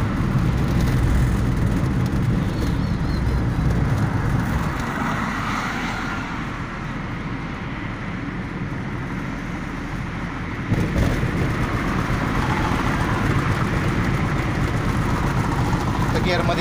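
A car engine runs steadily during a driving lesson, its low rumble rising and falling slightly with changes in speed, with continuous interior road noise and a noticeable surge near the end.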